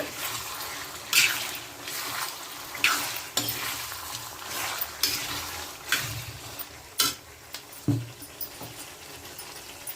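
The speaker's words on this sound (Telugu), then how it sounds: "ఇగోండి చికెన్ వేసుకున్నాం కదా, బాగా కలుపుకోవాలి" Chicken being stirred in a hot pan for spicy Andhra-style chicken fry: steady sizzling with repeated scraping strokes of a spoon against the pan, close and moderately loud, with no talking.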